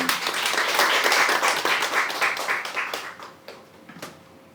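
An audience at a commemorative panel discussion in Jeongeup welcomes council member Lee Do-young with a dense round of applause. The clapping is loud at first, then thins out and fades into a few scattered claps.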